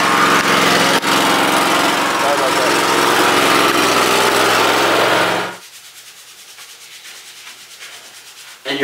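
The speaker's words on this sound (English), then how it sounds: "Someone has to be mowing their lawn in this store." A loud, steady lawn-mower-like engine drone fills an indoor store for about five seconds, then cuts off abruptly, leaving near silence.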